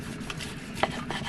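A knife saws through a cooked steak at an Arizona RV campground, with close, scraping strokes and a sharper cut near the middle of the short clip.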